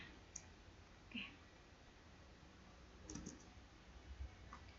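Typing on a computer keyboard during a terminal lab exercise, a few faint, sparse key clicks spaced apart over a quiet background hiss.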